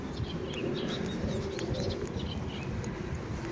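Faint birds calling and chirping in the distance over a steady outdoor rumble of wind, with occasional soft cooing notes.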